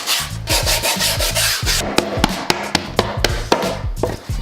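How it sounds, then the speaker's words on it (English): Sandpaper scrubs along the edge of new skateboard grip tape in brisk, evenly repeated back-and-forth strokes, loud and close, with a low tonal hum underneath and no talking. "go and sand the entire edge of the grip tape to keep it from A, peeling"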